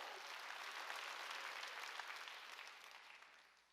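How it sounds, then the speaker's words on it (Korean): A church congregation claps through a sermon, a faint, dense, continuous wash of applause heard from a distance that gradually fades toward the end. "박수 치라"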